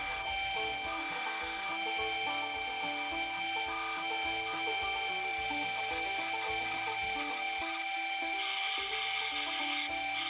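A 40-grit belt grinder shapes wooden knife handle scales for a 5160 steel hunting knife, giving a loud, continuous abrasive rasp with a steady motor whine that runs unbroken throughout.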